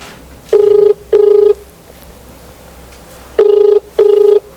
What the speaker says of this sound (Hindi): अब रिंग सुन सकते हैं